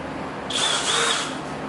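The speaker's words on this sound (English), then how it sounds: "I'm going to use these self-tapping screws" Power drill whirring briefly as it drives a self-tapping screw into fiberglass, a short high motor whine close by.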